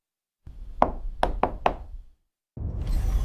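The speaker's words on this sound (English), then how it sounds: "Something knocks politely in vacuum" Four sharp, evenly spaced knocks on a hard surface ring out clearly against an otherwise quiet background, with a low rumbling tone returning after a short silence, in a deep-space horror setting.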